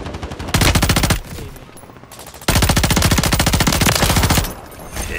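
Rapid automatic gunfire in a first-person shooter video game, two long loud bursts of fast, evenly spaced shots separated by a quieter gap, with a third burst starting at the end.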